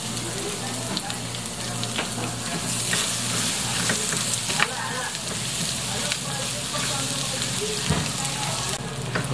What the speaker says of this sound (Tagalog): Mas masarap kung medyo i-brown natin itong bawang.